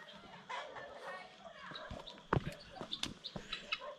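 Chickens cluck in short, scattered bursts at a farm smallholding in Várzea Grande, heard among outdoor background noise while people talk nearby.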